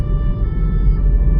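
An ambulance siren wails steadily over low traffic rumble on a Paris street, fairly loud and close, with no voices.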